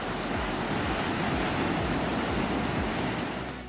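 Waves breaking on a sea shore at night, a steady broadband roar of surf with repeated low swells washing in, continuous and fairly close, no voices.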